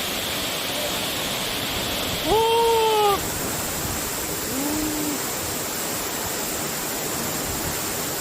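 Surak Falls, a waterfall in Gapyeong, pours in a steady dense roar close by, while a couple of brief voiced sounds rise faintly over the rushing water.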